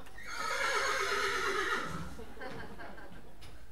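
A horse neighs loudly in a stage production of Peer Gynt, a long shrill whinny that falls away, followed by a few soft hoof clops and faint stage noise.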